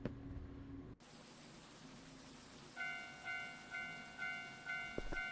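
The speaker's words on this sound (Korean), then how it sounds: "주변에 기차가 있나봐요." Train passing near a late-night convenience store in a video game: a low rumble with a rhythmic, repeating ringing crossing-bell tone pulsing about once per second, heard alone at moderate distance.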